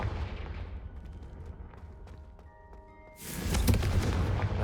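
A Confringo blasting spell cast in Hogwarts Legacy bursts in as a loud, broadband explosive whoosh near the end, following quieter game ambience with soft tonal chimes.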